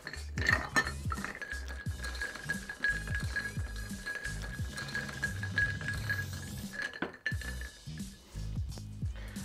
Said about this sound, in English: we're gonna stir this for a good 20 to 30 seconds